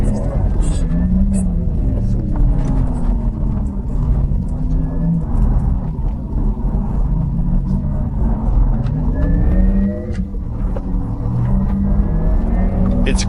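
Porsche Taycan Turbo S Cross Turismo electric station wagon accelerating hard, heard from inside the cabin as a steady loud road and tyre rumble with rising motor whine, while a person talks over it.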